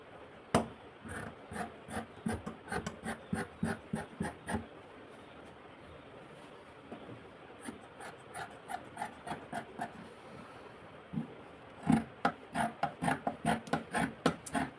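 Scissors cutting through blouse fabric along a marked line, heard as bursts of quick rhythmic snips with pauses between runs, close and fairly clear with no talking.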